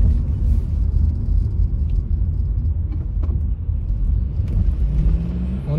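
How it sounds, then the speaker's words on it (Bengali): Cars move along a highway at speed, heard as a loud, steady low road rumble and tyre roar from inside a moving vehicle, with faint passing whooshes and no talking. "দূরের গাড়িগুলো জোরেই যাচ্ছে।"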